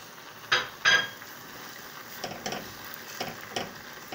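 Liver stirred in a pan with cumin and black pepper, a few sharp utensil scrapes and clinks against the metal, then softer spaced stirring strokes over a quiet background, close by and without speech.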